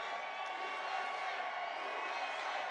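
A large rally crowd in Albuquerque cheers and whoops as a continuous roar, fairly loud and steady throughout.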